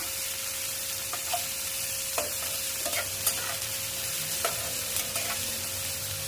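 Crushed ginger and garlic being stirred into frying bottle gourd bharta in a pan, a continuous soft sizzle with a few spoon scrapes and taps, close and unaccompanied by speech.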